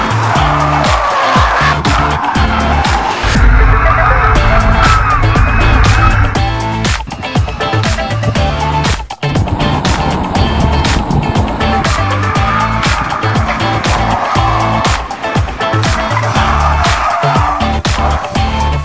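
A homebuilt electric car laps a race track, giving a loud, continuous roar of motion and road noise with bursts of tire squeal and skidding, close to the microphone throughout.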